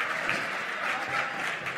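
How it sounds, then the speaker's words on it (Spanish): An audience at a design talk event applauds a speaker, a steady wash of crowd clapping for about two seconds. "les pido un fuerte aplauso para Mauro Canciani"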